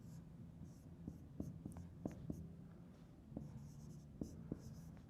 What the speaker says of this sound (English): I will write it here